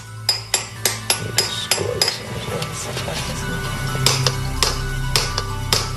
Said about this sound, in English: Their instrument of choice, a hammer and chisel